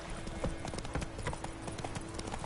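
Roach, a horse in the video game Witcher 3, gallops with rapid, steady clip-clopping hooves throughout, close and loud over a constant background hum.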